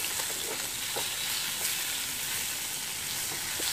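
Hilsa fish fry in plenty of hot oil, producing a constant, close crackling sizzle with a few soft clicks of turning, and no speech.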